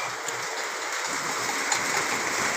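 Steady, dense rain hisses continuously close by, a constant wash of water with no pauses.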